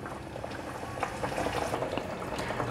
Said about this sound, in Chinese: 慢慢的炖煮